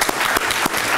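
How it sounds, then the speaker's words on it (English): Audience applause at a talk on resisting torture, a steady dense wash of clapping across the full second with a few louder bursts, no voices over it. "I want to give them a huge applause"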